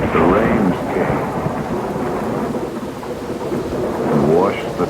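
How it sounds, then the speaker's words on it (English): A rainstorm hisses steadily while thunder rumbles loudly at the start, eases into a softer, continuous roll through the middle, then swells again near the end, with no voices. "But the rains came"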